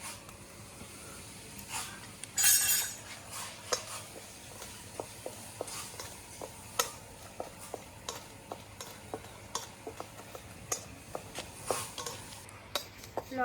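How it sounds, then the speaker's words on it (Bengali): Dried red chillies frying in oil in a pan for a mango pickle, a soft continuous sizzle broken by frequent sharp clicks and scrapes of stirring, close but quiet, with no voices. "তাই শুকনো লঙ্কাটা আগে ভেজে নেব"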